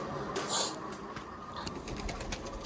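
Pigeons cooing around a home loft while grain is scattered for them, soft and fairly distant under a steady background hiss, with a faint flutter near the start.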